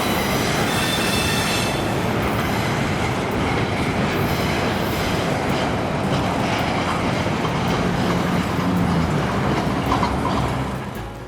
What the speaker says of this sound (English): the international cut was ringing up the tail end of the train